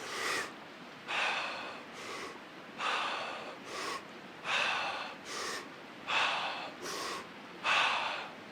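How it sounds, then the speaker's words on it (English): Rapid holotropic breathwork breathing: forceful, deep belly-and-chest breaths in a steady rhythm of sharp, loud gasping inhales and exhales, close and alone with no talk. "It is breathing like this. I'll demonstrate it. So it's filling up the belly, filling up the chest, and go."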